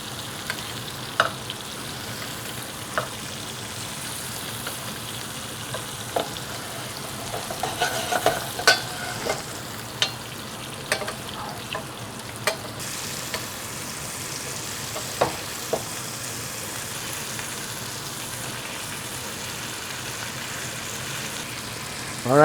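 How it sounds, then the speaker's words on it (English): Filet mignon sizzling steadily in a pan while being basted, a continuous frying hiss punctuated by scattered spoon clinks and spatters, close and moderately loud throughout. "Now it's basting it."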